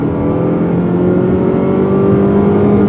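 A 2020 Mazda CX-30 SUV with all-wheel drive accelerates in sport mode, engine note climbing steadily in pitch from inside the cabin, loud and continuous with a rising whir.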